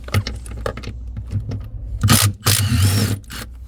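A swivel ratchet tool turns bolts during a carbon fiber heater install on a 2024 Ford Bronco, giving close, rapid clicking pawl ratchets with metallic clanks and louder grinding bursts near the end.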